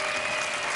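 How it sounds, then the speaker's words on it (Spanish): Studio audience applauding at the Nuestra Belleza Latina 2015 televised beauty pageant, a dense, steady wash of clapping filling the whole short moment with no break. "Fuerte el aplauso para Mariana de Houston."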